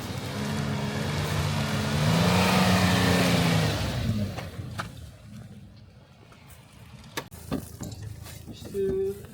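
A Suzuki off-road vehicle with a wheel missing after its tire came off drives on a muddy trail, its engine growling loud and close with wet churning noise, then easing off as voices talk nearby.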